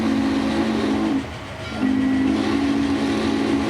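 Train running along a route in the Transport Fever video game, a steady rolling rumble with a sustained low horn-like tone that briefly drops away before resuming and continuing alone to the end.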